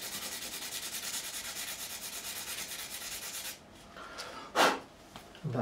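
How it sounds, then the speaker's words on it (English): A guitar is sanded with 400 grit sandpaper in a rapid, close rhythmic rasping that stops partway through, followed by a few soft handling rubs. "Sandpaper, some 400 grit just to go over the top."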